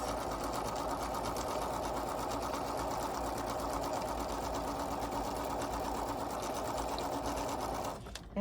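A sewing machine stitches a quilt strip set at a stitch length of 2, a fast, steady mechanical whir with rapid rhythmic needle clatter, running continuously at close range and stopping abruptly at the end.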